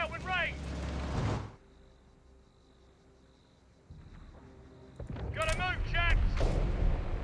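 Gunfire and artillery from the World War II strategy game Company of Heroes 3, Italian campaign, sound in bursts of sharp reports at the start and end, with quieter rumbling mechanisms between.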